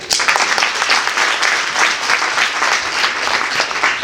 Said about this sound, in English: One more round of applause, guys.